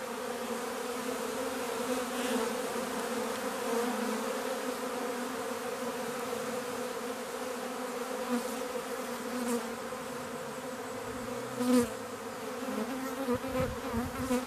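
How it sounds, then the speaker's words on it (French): A swarm of honeybees clustered on a hive set on two trestles during spring swarming hums in a steady, fairly faint drone, with a few soft knocks near the end and no voices. "je vais capturer l'essaim"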